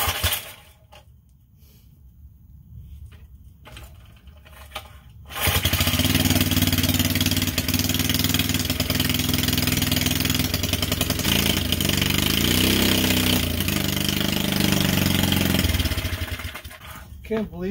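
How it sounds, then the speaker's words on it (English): An old gasoline motor of about 45 years on a motorized custom tow bike starts up after quiet moments and then runs steadily and loudly for about ten seconds before cutting off. "Can't believe this 45 or so year old motor is still running."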